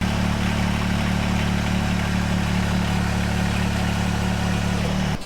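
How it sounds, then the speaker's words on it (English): A compact tractor engine, a John Deere 1025R or Kubota BX, runs at a steady idle throughout, a loud, constant low rumble close by that cuts off abruptly at the very end. "Let me fire the tractor up and make sure the 3-point is all the way to the"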